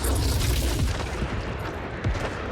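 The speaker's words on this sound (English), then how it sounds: "Tossing frag grenade" A frag grenade goes off in a Warhammer 40K-style shooter on lethal difficulty, a deep booming blast with rumbling low-end that stays loud and dense, mixed with further gunfire-like thuds throughout.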